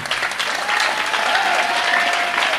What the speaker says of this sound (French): Là-bas, on acclame le Seigneur.